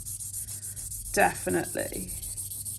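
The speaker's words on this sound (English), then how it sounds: "I'm going to give it a buff with a 180 grit file" A 180 grit file buffs a fingernail surface with soft, close rasping strokes, and a person briefly speaks over the rubbing partway through.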